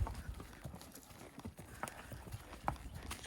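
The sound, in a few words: horse hooves on rocky trail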